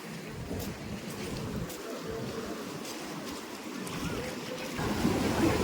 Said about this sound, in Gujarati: જો કેટલું પાણી આવે છે મોજા ને મોજા આવે છે